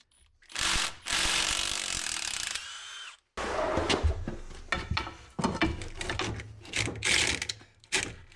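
A ratchet wrench removing drive shaft bolts, heard as bursts of rapid clicking that stop and start, with short pauses as the tool is repositioned, close and fairly loud with no speech.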